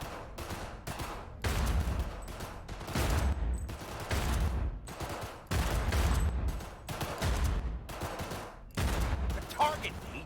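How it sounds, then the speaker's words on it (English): Gunfire in the video game Cyberpunk 2077, repeated loud bursts of automatic fire separated by short pauses, with occasional voices in between. "What are they shooting at?"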